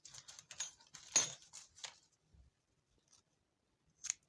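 Scissors snip through a crochet yarn tail on a handmade bag: a few crisp, close cutting clicks in the first two seconds, then near silence with one faint final snip.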